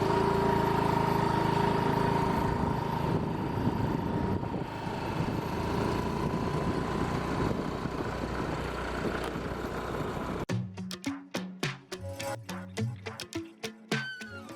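A scooter engine runs steadily for about ten seconds in a short Malayalam drama, loud and close; it then cuts to a sparse, choppy stretch of quieter knocks and rumbles.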